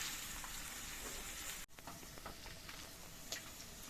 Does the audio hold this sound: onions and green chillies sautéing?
yes